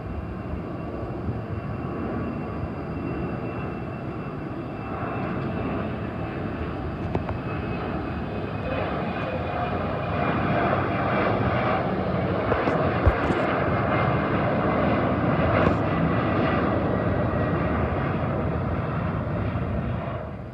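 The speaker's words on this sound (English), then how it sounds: "there's a Bulgaria Embraer 190 returning home to Sofia" A Bulgaria Air Embraer 190 jet at Heathrow Airport produces a broad, steady engine roar that swells gradually louder over twenty seconds as it passes.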